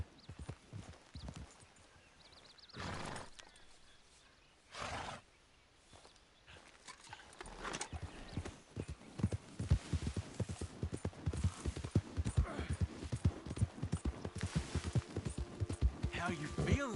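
A horse walks in Red Dead Redemption II, its hooves clip-clopping in a steady, close rhythm that grows louder and denser in the second half, preceded by quieter shuffling and a couple of brief louder bursts.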